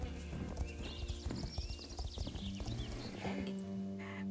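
Horse hooves clip-clop in a western video game, with rhythmic, fairly close hoofbeats in the first half followed by a whinny and some faint background game sound.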